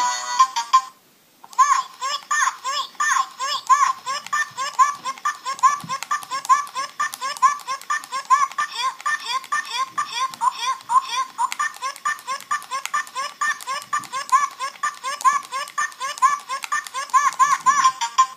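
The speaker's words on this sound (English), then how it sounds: "we have a swearing kids phone" A swearing children's toy play phone plays tinny electronic ringtone tones and recorded babbling and laughter, with rapid beeping bursts repeating steadily after a brief pause near the start, loud and close.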